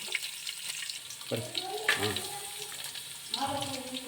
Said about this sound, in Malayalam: ചൂടായിരിക്കുന്നു അതിലേക്ക് നമ്മൾ കറിവേപ്പില ഇടുന്നു അതിലേക്ക് നമ്മൾ നേരത്തെ മുറിച്ച് വെച്ച ഇഞ്ചി പച്ചമുളക് വെളുത്തുള്ളി ഇടുന്നു